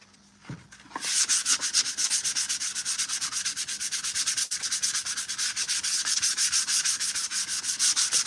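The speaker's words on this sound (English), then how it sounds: "Let's get that sanded up." A rapid, rhythmic rasping of sandpaper rubbing back and forth on a hard painted armor piece, steady and close, starting after a brief pause.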